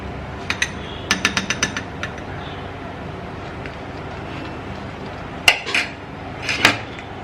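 A spoon clinks and scrapes against a bowl while blended potato puree is scooped in, giving a cluster of sharp, close taps early on, a quiet stretch, then a few more clinks near the end.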